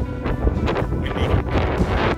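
Strong wind at a multi-story beach pavilion lookout on the boardwalk at New Smyrna Beach buffets the microphone with a steady low rumble and gusty roar. The sound is loud and unbroken, and no one speaks.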